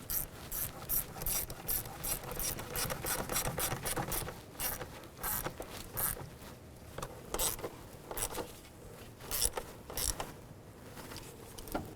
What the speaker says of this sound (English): Let's go ahead and tighten up our hose clamps here.